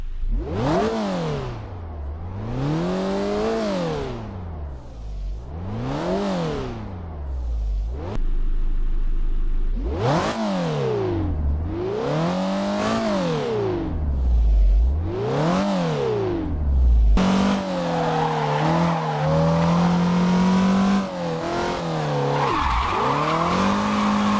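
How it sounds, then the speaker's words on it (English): Mazda MX-5 in Assetto Corsa, revving hard in repeated climbs and drops through the gears, several rising engine sweeps cut by shifts, loud and close with no talking. "So we're going to go ahead and talk about the regular MX-5 now, so listen to that."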